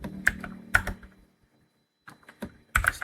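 Keystrokes on a computer keyboard as a value is entered, in two short bursts of close clicks separated by a quiet pause, then a final cluster of taps.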